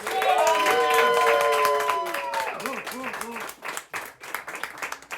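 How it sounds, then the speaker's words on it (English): Comedy club crowd in County Kerry applauds a first-time magician taking the stage, clapping and cheering heard beneath an MC's voice, the applause thinning and breaking up toward the end. "please, a big, massive round of applause for a first time in the club, Steve Mills!"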